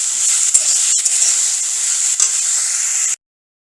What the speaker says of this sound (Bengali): লাউটাকে তুলে একটু ভেজে নেব। এর মধ্যে নুন দিয়ে দেবো। নুন দিয়ে লাউটাকে একটু নেড়ে নেব।